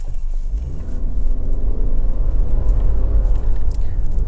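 A 2025 Subaru Forester Touring pulls away from a stop in X mode, its engine a steady low rumble that rises in pitch as revs climb to about 4,000 RPM, heard loud and close from inside the cabin.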